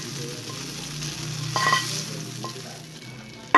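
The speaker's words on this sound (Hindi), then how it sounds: "इसके अंदर हम सारे ये प्याज अच्छे से ऐड कर देंगे" Fried onions and ginger are tipped into a pot of degi haleem and mixed in, giving a low steady sizzle and stirring scrape with a brief louder rustle midway and a sharp knock at the end.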